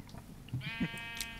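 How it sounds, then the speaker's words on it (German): A Minecraft sheep bleats twice in the video game, a short near call with a clear tonal, harmonic bleat following it, alone with no talking. "Guck mal, hallo Schaf."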